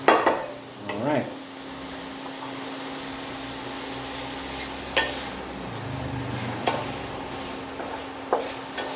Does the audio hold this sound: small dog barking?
no